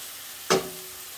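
Garlic, onion and dried red chilli dropped into hot oil give one sudden loud sizzle that quickly fades to a quiet hiss, heard alone.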